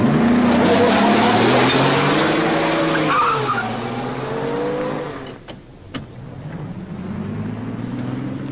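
A 1950s car pulls away with a long tire skid and engine roar that fade into the distance, followed by a couple of sharp clicks and a softer, lingering engine tone.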